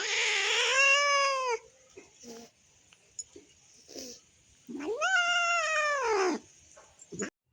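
A pet cat named Chini meows indoors: two long, loud, drawn-out wailing calls with soft little chirps and faint noises between them, close to the listener.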